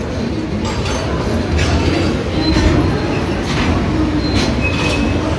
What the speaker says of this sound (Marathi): पनवेलवरून ट्रेन सुटली आहे